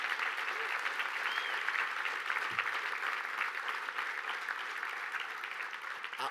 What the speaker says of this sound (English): Let's give them another round of applause for our great finalists.